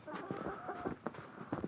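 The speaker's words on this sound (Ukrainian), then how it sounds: "Тут і кури віддихають тепер." Chickens in a yard in rural Ukraine, a few soft, faint clucks scattered at an irregular rhythm over quiet outdoor background.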